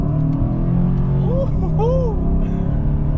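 A pickup truck with a 5.3 engine and nearly 100,000 miles, freshly tuned with new spark plugs, rumbles steadily while driving, with a couple of brief whistling tones over the drone and voices nearby.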